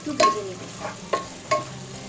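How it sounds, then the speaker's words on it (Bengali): Black peppercorns and torn bay leaf pieces frying briefly in oil for beef nihari: three quick scraping stirs of a spoon in the pan over a faint sizzle, close and moderately loud. "দুটো তেজপাতা ছিঁড়ে আমি 4 টুকরো করে নিয়েছি। এবার এটাকে একটু ভেজে নিব।"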